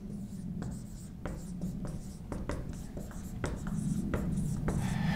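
A pen scratches across note cards in short, quiet, close strokes with small pauses between them.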